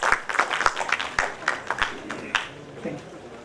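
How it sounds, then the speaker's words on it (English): Scattered applause from a small audience after a tech talk, with distinct individual claps in an uneven rhythm that thin out and fade toward the end. "We should give a big hand of applause for all the people behind this"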